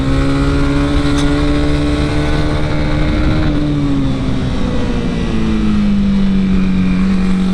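Honda CB300R motorcycle ridden fast, a loud, steady engine drone with smoothly shifting pitch and heavy wind rush, close up and continuous.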